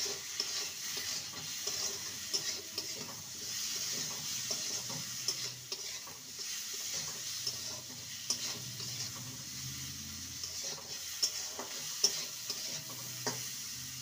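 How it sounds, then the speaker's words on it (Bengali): Chopped tomatoes are stirred into lentil dal with spinach and winter vegetables, producing a continuous soft sizzle and steady scraping stir with light clicks from the spoon. "টমেটো দিয়ে ভালো করে নেড়ে নিয়েছি।"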